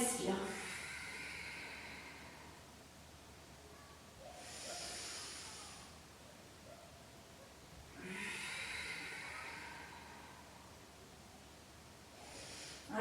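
Slow, airy breaths during a yoga exercise: long hissing exhales alternate with quieter inhales, about three drawn-out breath cycles, close to the microphone with no speech.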